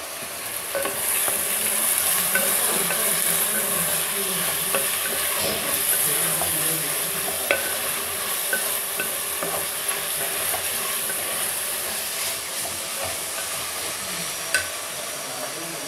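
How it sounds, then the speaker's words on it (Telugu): Tomatoes sizzle and soften in a hot pan on a home stove, a steady close frying hiss with soft stirring scrapes and small pops running throughout, no voices. "ఇప్పుడు టమోటాలు వేసుకుందాం. కొంచెం టమోటాలు బాగా మగ్గాలి."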